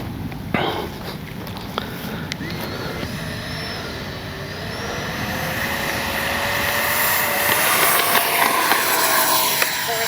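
A Freewing F-35 RC jet spools up and takes off from a runway, its ducted-fan whine rising steadily in pitch and loudness over about ten seconds.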